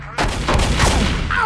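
Rapid bursts of gunfire in a survival video game set around a boat house, several sharp loud shots in quick succession with a brief pause early on.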